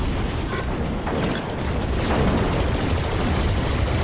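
A chest cannon fires in the video game Deity, producing a dense, continuous roar of booming blasts and crackling explosions that fills the whole stretch without any talk.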